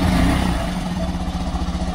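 A Honda Monkey 125 motorcycle engine idling to warm its oil, a steady close throbbing putter that swells briefly at the start before settling into an even running note.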